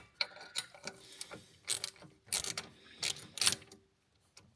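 A ratchet socket wrench clicks in quick bursts while turning a bolt during a turbo intercooler pipe replacement on a Nissan Navara NP300. The bursts are close and uneven, separated by brief pauses.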